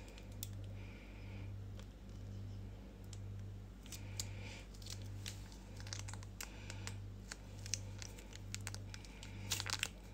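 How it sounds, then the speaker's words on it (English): Scissors snipping through a sachet of HP brown sauce, a few crisp cuts and crinkles close by over a steady low electrical hum. "I'm going to use the scissors."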